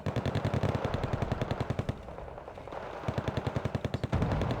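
Rapid bursts of rocket fire in the Wargame Red Dragon strategy game, fast regular volleys that pause briefly mid-clip and then resume, loud and close with no talk.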